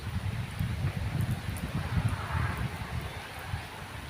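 Wind gusts roar with a steady rushing hiss as rain is driven in by the wind at an outdoor construction site, with low rumbling buffeting throughout.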